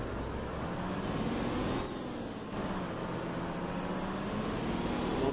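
A bus in the OMSI 2 simulator slowing to a stop, steady road and engine rumble with a drawn-out high brake whine, a short dip in the middle, then the low drone resumes, with no talk.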